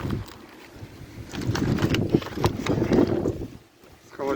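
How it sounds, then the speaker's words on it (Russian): Strong wind gusts against the microphone outdoors, swelling and fading in rough surges, with a person talking over the blustery roar. "Ветер очень сильный."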